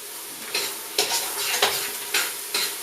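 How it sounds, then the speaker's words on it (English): A spoon stirs roux in a pot over heat for vegan cooking, giving five scraping strokes about half a second apart over a steady close sizzle, with no talking. "Now make sure you continue to stir it and to avoid it sticking to the pot"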